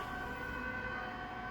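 A steady ambulance siren wails continuously, moderately loud over road rumble, held without breaks for the whole short moment.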